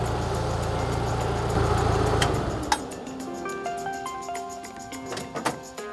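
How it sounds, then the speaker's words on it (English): A warmed-up car engine idles steadily just after its first start, a loud close rumble that drops to a lighter, ticking idle partway through. "Idle doesn't go up to 1200 like it does when it's cold."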